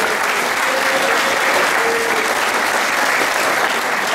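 Sustained applause from a concert crowd at a Babické písničky folk song evening, thick continuous clapping close and loud, even throughout.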